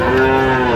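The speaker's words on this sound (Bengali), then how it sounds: "শাহিওয়াল জাতের বকনা বাছুর গরুগুলো" A Sahiwal heifer calf moos in one sustained, loud low call that fills the moment, with no talking.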